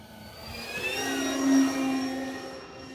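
An E-flite Beechcraft RC-45J D18 1.5 m twin-engine electric model plane flying at sunset, its motors giving a steady whirring drone with a thin tonal whine that swells as it passes closest, then eases off.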